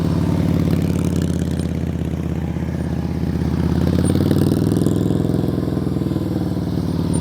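A motorcycle engine runs at low, steady revs, a continuous throaty idle with slight rises in pitch, close by and without speech.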